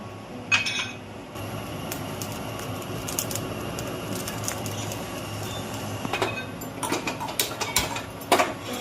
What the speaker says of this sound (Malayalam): നമുക്ക് കടുക് ആദ്യം വറുത്തെടുക്കാം